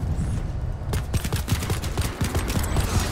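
Silenced pistol fire in the online shooter Planetside 2, heard as a quick run of soft, muffled shots in an uneven rhythm over a busy game-battle background, with no talk.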